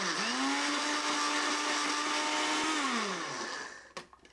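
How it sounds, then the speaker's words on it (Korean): A blender grinds one and a half cups of coarse red pepper flakes in a kitchen, a loud, steady whine that holds for about three seconds, then winds down and ends with a few clunks. "굵은 고춧가루를요 1컵 반을 넣고요, 이걸 좀 갈아주겠습니다."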